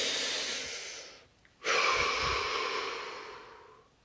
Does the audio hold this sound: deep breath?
yes